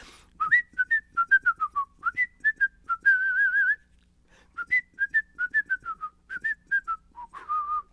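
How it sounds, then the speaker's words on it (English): Someone whistles a lively tune alone, with quick bright notes, a held note, a short pause, then the melody resumes. "we sometimes whistle like we're walking through the woods or we're in our car"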